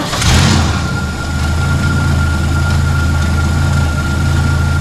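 A carbureted car engine, being tuned at the throttle, idles loud and steady at close range, with a brief rise in revs right at the start before settling into an even rumble.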